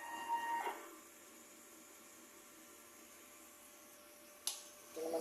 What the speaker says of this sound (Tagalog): So, ito po yung printer header yan.